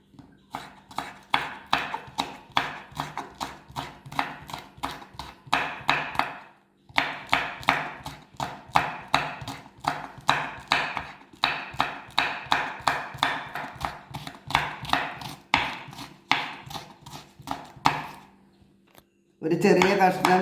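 Green chillies being finely chopped on a cutting board for masala dosa, a fast steady run of sharp knife taps in long bursts with one short pause, close and loud.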